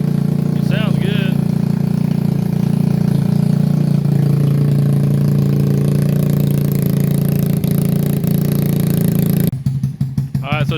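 A motorcycle fitted with a Nibbi 24mm carburetor idles steadily and loudly up close for about ten seconds, a low continuous engine rumble that stops abruptly near the end.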